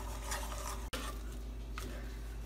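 Thick homemade playdough is worked in a pan with a spoon, giving a soft, steady scraping and dragging texture that cuts out for a moment partway through.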